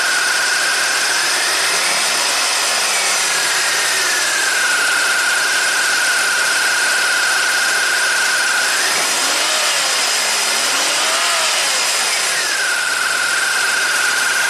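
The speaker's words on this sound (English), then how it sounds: "So I'm just going to hold this right here and rev it up a little bit." A 1990 Buick Regal V6 with a severe low-power fault runs loud and close at a steady whine, its pitch climbing twice as the engine is revved up and allowed to settle back.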